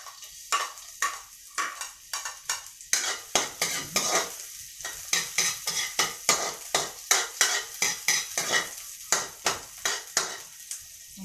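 Onion and garlic sautéing in a little oil in a pan, rhythmic stirring and scraping strokes over a steady sizzle, close and distinct.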